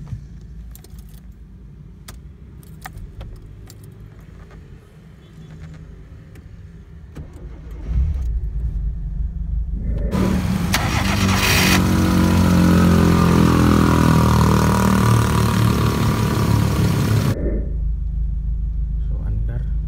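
Keys jangle and click near a car before the engine cranks and catches, then settles into a steady idle rumble with a louder stretch partway through. People speak over the engine.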